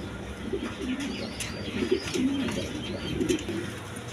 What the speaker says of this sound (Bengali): দর্শকবৃন্দ, এখানে এক পেয়ার কোকা কবুতর আছে।